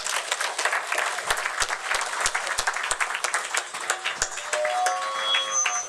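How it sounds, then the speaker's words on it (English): Church audience applauding scouts who earned badges, a steady patter of many hands clapping at moderate distance with a few sharper near claps, swelling slightly toward the end. "they deserve a round of applause"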